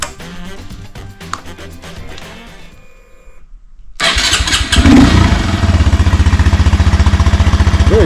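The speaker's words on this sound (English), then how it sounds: "So this is the factory Honda Grom exhaust in all of its bulky, heavy, and very quiet existence." A Honda Grom motorcycle on its bulky factory stock exhaust cranks and starts, then settles into a quiet, steady idle heard up close.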